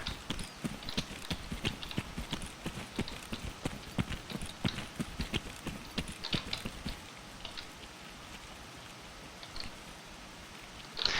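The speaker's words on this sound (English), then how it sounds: "Sometimes I think I hear people, but it's actually my own footsteps." Footsteps in the video game Escape from Tarkov come as a steady run of close, crisp clopping steps with light debris-like crunches. They slow and thin out near the end, and no one speaks.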